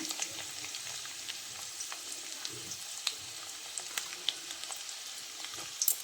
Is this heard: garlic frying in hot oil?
yes